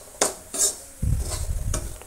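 Semolina and gram flour roasting in a pan, with a few sharp scrapes of a spoon against the metal, then steady, close rustling and stirring.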